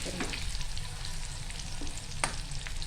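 Clams frying in a pan as they are flipped, with a continuous crackling sizzle of oil and a few sharp scraping clicks of the utensil against the pan.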